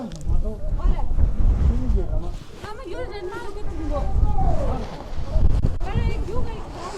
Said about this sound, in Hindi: हवा काफ़ी तेज़ है यहाँ पे।